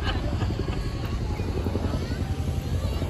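Helicopter flying overhead at an outdoor dance gathering of the Seneca Nation, a steady low rotor drone that holds loud and unbroken throughout, with faint voices blended into the rumble.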